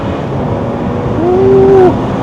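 A BMW X5 xDrive35i F15 with a tuned six-cylinder making about 390 whp climbs a hill road. The engine's rising tone builds to a short high rev over steady cabin and road roar, then falls away.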